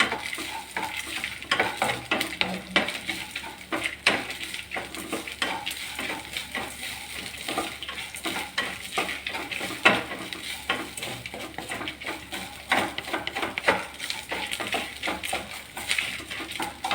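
Lentils sautéing with curry leaves in a pan, a continuous soft sizzle with frequent clicking stirs and scrapes of a spoon against the pan, close and alone.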